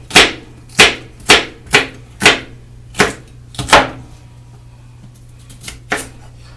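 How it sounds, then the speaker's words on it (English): Chopping greens on a cutting board with a knife: about seven sharp, evenly spaced thuds close by, loud and alone, then a pause and a couple of lighter chops. "chopping up the greens right now"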